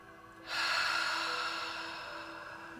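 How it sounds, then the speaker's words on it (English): A single sharp, audible inhale through the nose begins suddenly and trails off slowly, close and quiet, with no voices. "breathing in through your nose"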